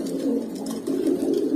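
Pigeons, including silver-pattern birds kept in a loft, coo in a low, continuous burble that swells and eases over a short stretch, close and fairly loud with no talk.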